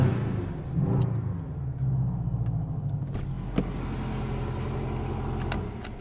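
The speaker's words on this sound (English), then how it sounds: "this car sounds, for a 2-litre engine, it sounds absolutely fantastic" Crayon Grey 2018 Porsche 718 Boxster PDK with a 2-litre engine running nearby, a steady low rumble with a brief rise in revs and occasional clicks, no talking.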